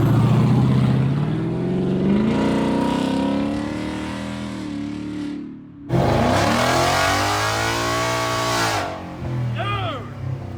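A 1950s Ford truck with a swapped Coyote V8 makes about 400 horsepower and accelerates hard and close. The engine roars up through the gears, breaks briefly at a shift, then climbs loudly again, with people talking over it.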